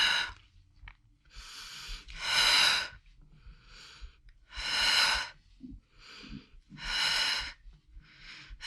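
Breathing during a mat workout: a series of long, airy breaths in and out in a slow, steady rhythm, close and fairly soft, with quiet gaps between them and no talking.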